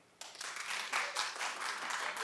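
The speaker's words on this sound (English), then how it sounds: "clap if you did" A sparse studio audience at a TV talk show claps quietly and briefly, a thin patter of hands that starts abruptly and continues unevenly.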